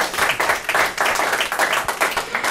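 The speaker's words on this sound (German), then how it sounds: "Herzlich willkommen, Ihr Applaus." Studio audience applause greeting a guest on a German talk show about outside managers in family businesses, a steady burst of many hands clapping at close range throughout, with no talk over it.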